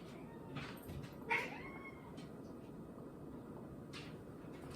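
A house cat meows near a closed window, wanting it opened: a few short, faint meows, one sharper and louder than the rest, over a quiet room hiss.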